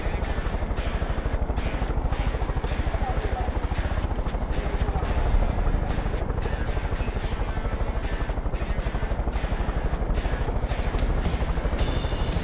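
Steady, loud helicopter rotor thump and engine drone in the video game Star Citizen, a continuous rapid beating that persists evenly throughout without any break.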